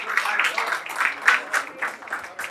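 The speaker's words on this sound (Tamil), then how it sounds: "ஒரு பலத்த கைத்தட்டல் கொடுத்துடலாம்." A college reunion audience claps for welcomed lecturers, moderate scattered applause in uneven bursts, fairly close, with faint voices mixed in.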